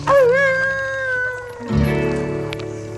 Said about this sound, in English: Howling at the moon.